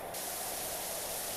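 Pressure washer jet spraying in the video game PowerWash Simulator 2, a steady loud broadband hiss running without a break from start to finish, with no talking.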